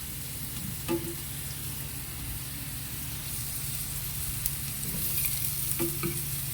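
Eggs being stirred in a hot pan, a continuous close frying sizzle with scraping of a spatula and a few brief clinks against the pan.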